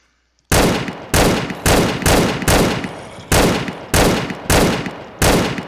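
A pulse rifle fires in a Minecraft server video game, ten loud, evenly spaced heavy blasts about every half second, each with a decaying tail, close and alone.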